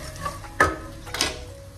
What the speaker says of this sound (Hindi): अब इसको हम बहुत अच्छे से मिक्स कर देंगे।